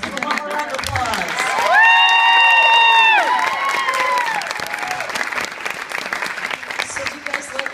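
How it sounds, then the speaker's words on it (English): Audience applause and cheering at a show, with clapping and whoops rising and holding, while a voice calls out over the crowd mid-clip. "Let's give them one more round of applause."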